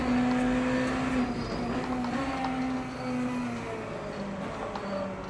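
A hypercar engine droning steadily in the Le Mans Ultimate racing video game, a loud, even hum with shifting pitch and no talking.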